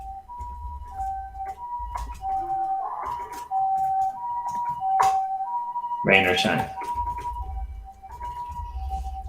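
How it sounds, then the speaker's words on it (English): A Japanese ambulance siren at night wails steadily in the distance behind someone speaking, its repeating tone rising and falling through the whole stretch. "everyone in the audience gets to hear a Japanese ambulance at 12:02 a.m. in the morning"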